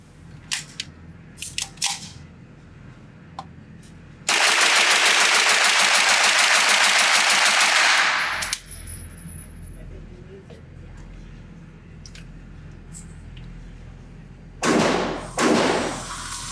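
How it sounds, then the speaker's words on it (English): A Smith & Wesson M&P FPC pistol-caliber carbine fired as fast as possible at a range: a dense, loud four-second burst of rapid shots, with scattered handling clicks and thumps before and after. "I'm going to shoot this thing as fast as I possibly can"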